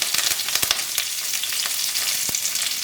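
Mustard seeds spit and crackle in hot oil in a pan, a dense, steady sizzle with scattered sharp pops throughout, close and fairly loud.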